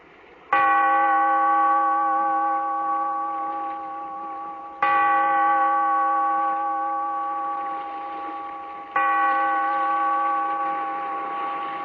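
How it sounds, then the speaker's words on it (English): A large bell tolls three times at slow even intervals, each strike ringing out with a rich sustained hum that slowly fades before the next, loud and alone in a 1945 radio drama opening. "Bellkeeper, toll the bell"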